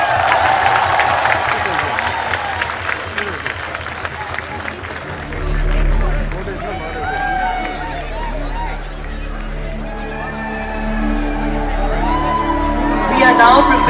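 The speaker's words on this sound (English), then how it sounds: "please give them a big round of applause." At a large cultural festival, the outdoor audience claps and cheers with scattered whoops and babble. A loudspeaker voice and low musical tones come in partway through as the crowd noise carries on.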